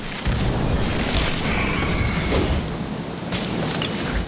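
An Incendio fire spell cast in the Harry Potter Magic Awakened video game, a loud booming whoosh of roaring flame with thumps in a dense, sustained burst.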